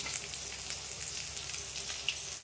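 Small puti fish fry in a pan with a steady, close hiss of sizzling oil that runs unbroken, with no voices and only a brief dip at the very end.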